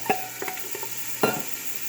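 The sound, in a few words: onions frying in hot oil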